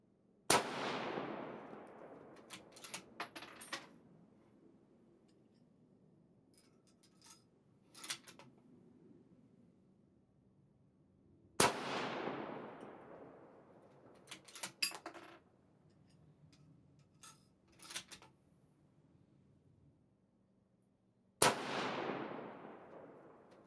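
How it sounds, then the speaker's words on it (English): Three loud rifle shots from a custom 25 Creedmoor fired with 42.6 grains of Hodgdon H4350, spaced about ten seconds apart, each a sharp crack with a fading tail, separated by faint clicks and handling noises. "Let me show you how it shot with this rifle."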